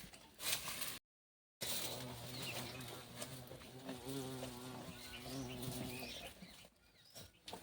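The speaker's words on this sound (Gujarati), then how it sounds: "જો આ ભમરાભાઈ ઘર ખોળે છે" A bumblebee buzzing close by on a farm as it searches for a nest, a steady droning hum with shifting pitch, briefly cut out once, with faint birdsong around it.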